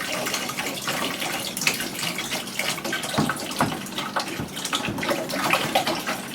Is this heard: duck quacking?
no